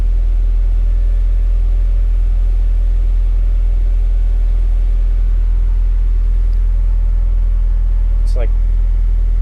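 A Honda Integra with a swapped F20 engine is held at high RPM during tuning, giving a loud, steady, sustained drone with a constant rumbling low end.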